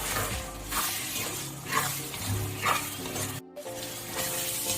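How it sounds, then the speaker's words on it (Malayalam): Homemade lemon pickle is stirred with roasted pickle powder in a hot pan, with continuous sizzling and repeated scraping strokes of a spoon, close and steady, briefly pausing near the end. "അച്ചാർ പൊടിയെല്ലാം ചേർത്ത് നമ്മൾ ഈ അച്ചാർ നന്നായി ഇളക്കി യോജിപ്പിച്ചിട്ടുണ്ട്"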